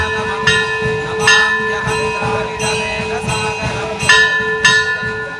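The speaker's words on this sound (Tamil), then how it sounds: "கண்டாமணிகள் ஒலித்தன" Large temple bells ring repeatedly with sustained metallic tones, strikes recurring every second or so over a dense background hum.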